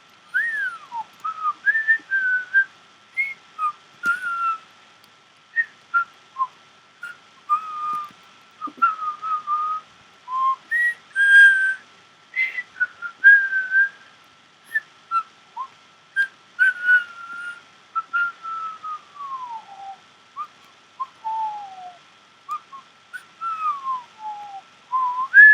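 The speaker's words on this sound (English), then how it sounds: "I did just make that whistling noise" A person whistles the Doctor Who theme alone, with clear sliding melodic phrases broken by short pauses, close and fairly loud, with no speech over it.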